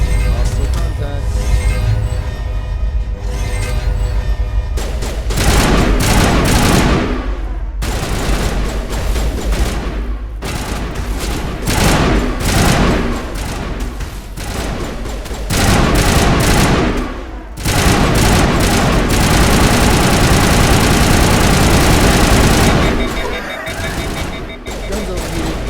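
Gunfire in the video game Mass Effect: loud, dense sustained bursts of rapid weapon fire with brief pauses between volleys, nearly continuous throughout, with a voice speaking in places.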